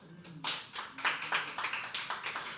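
Applause from an audience at a poetry open mic, a burst of many hands clapping that swells in repeated waves, fairly close and steady for a couple of seconds.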